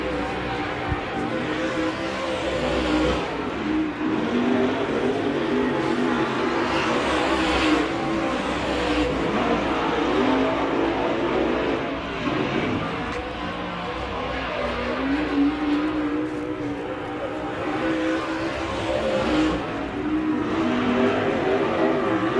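Race cars roar steadily around Big O Speedway on opening weekend, a continuous dense engine drone with rising and falling revs from several cars, loud and sustained throughout.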